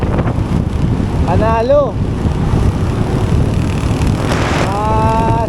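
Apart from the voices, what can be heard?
strong wind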